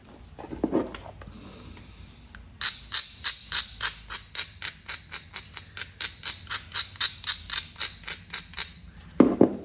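Flint Ridge flint point being beveled by hand, with a rapid series of about twenty sharp, evenly spaced clicking strikes of pressure flaking up close, each a crisp tick, after a few quieter scrapes at the start.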